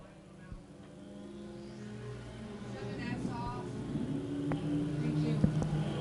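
Race cars on the I-35 Speedway oval come out of turn 4 in a battle for the lead, their engines droning and rising steadily with a growing roar, while a voice talks over the noise.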